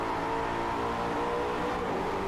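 A Maserati GranTurismo engine revs in a VR driving game with a steady, throaty roar that holds loud and close for a couple of seconds.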